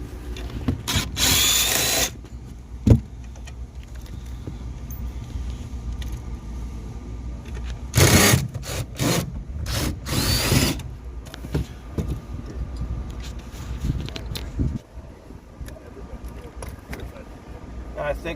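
Short bursts of a power tool whirring in repeated spurts during rear power window motor repair on a 1972 Ford LTD convertible, close and loud, with clanks and handling noise in between.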